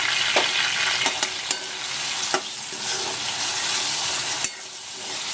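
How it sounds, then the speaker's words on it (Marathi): Finely chopped tomatoes with chili and curry leaves sizzle in a pan for a pomfret fish curry, a steady frying hiss broken by a few scraping stirs of a spoon. "त्यानंतर आपण हे बारीक चिरलेले टोमॅटो टाकणार आहोत। त्यानंतर आपण थोडं त्यामध्ये मीठ टाकूया, त्याने टोमॅटो छान स्मॅश होतो।"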